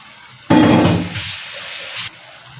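Water splashes into a hot pan of stir-fried squid, a sudden loud sizzle and hiss that tapers and flares again for about a second and a half before cutting off, with no talk over it.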